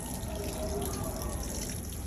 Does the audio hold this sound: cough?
no